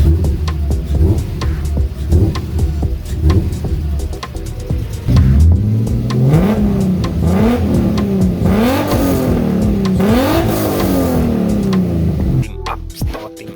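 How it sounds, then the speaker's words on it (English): A Toyota Cressida with a swapped VQ35HR V6 revs repeatedly at idle, loud and close, the pitch climbing and falling in several quick blips before dropping back down. "Give it a rev."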